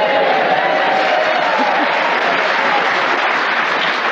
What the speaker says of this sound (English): And you can hear that we have a fine, warm, receptive Hampshire audience ready to cheer us on our way as we begin the show this week with Paul Mer